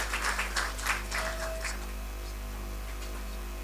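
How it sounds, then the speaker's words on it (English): Applause at the opening of a workshop on Lake Victoria border security, a short round of clapping from the audience that fades after about a second and a half, leaving steady hum and room noise. "Once more, another round of applause."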